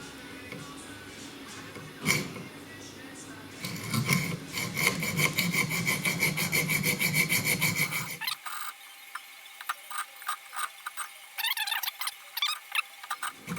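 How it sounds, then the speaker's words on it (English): A small handheld mini hacksaw rasps through wood in quick back-and-forth strokes, first a dense continuous scraping run, then a pause and a series of shorter, sharper strokes, close and fairly quiet with no voices. "Little handy dandy mini hacksaw."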